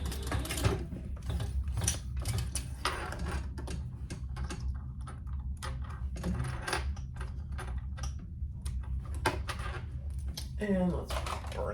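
A sewing machine stitches a row along a laptop bag in quick, rattling mechanical bursts, fairly close but moderate in level, with brief pauses and a voice speaking now and then.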